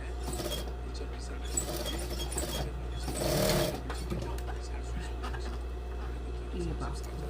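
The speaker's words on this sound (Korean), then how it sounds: "미싱 소리가 어째 시원찮아요." A sewing machine runs steadily throughout, its motor hum constant beneath talk and some clatter, with a louder burst midway.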